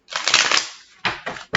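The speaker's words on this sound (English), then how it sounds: "They're just sticking to each other, making the shift, the shuffle difficult." Sticky tarot cards being shuffled, a close crisp burst of riffling papery flutter, then a pause and two more short rasping riffles.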